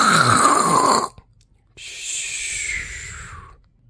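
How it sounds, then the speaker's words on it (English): Loud, monstrous snoring in two long rasping breaths, the first harsh and tonal for about a second, then a pause, then a longer airy wheezing snore trailing off, close and alone. "Why the heck is Bro snoring like a monster from a TV show?"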